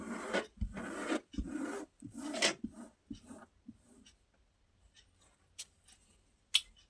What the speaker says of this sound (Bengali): এই দেখুন হাত দিয়ে একটা ঘষে নেবেন